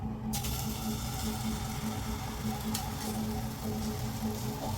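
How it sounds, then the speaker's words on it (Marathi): Oil sizzles in a frying pan while an egg roll is being cooked, a faint, steady crackling hiss that runs unbroken throughout with no one speaking. "तेल टाकून घ्यायचं आहे सर्वात आधी"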